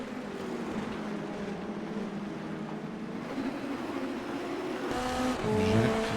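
Indy NXT race cars lapping the Indianapolis track produce a steady engine drone with tonal whine, swelling louder near the end as a car passes closer.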